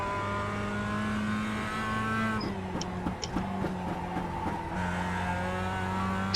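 Mazda MX-5 Cup race car in the iRacing sim at Summit Point's Jefferson Circuit, its engine droning steadily loud, then a brief stretch of chopped revs and shifts mid-clip before the steady engine tone returns.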